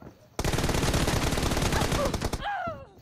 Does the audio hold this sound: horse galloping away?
no